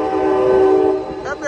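Amtrak train led by a Siemens Charger SC-44 locomotive passing the Oakland Jack London Square station, with a loud sustained horn blast and rolling rail noise, fading toward the end.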